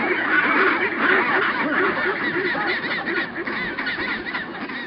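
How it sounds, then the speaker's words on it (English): Antarctic penguin colony calling loudly, a dense chorus of overlapping honking, quacking-like cries from many birds, continuous and close without pause. "Penguins are gregarious, and once they begin the conversation, just like humans, they communicate louder and louder with wings flapping"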